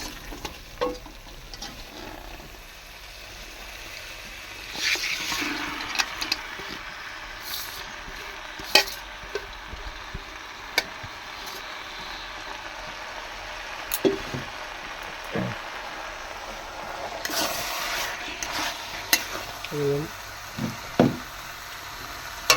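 Chicken meat fries and is stirred in a spice masala, a moderate, steady sizzle broken by irregular knocks and scrapes of the stirring utensil against the pan, without talk.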